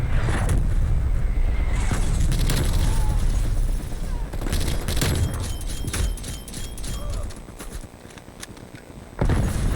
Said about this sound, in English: Hostile artillery targeting active. Artillery inbound.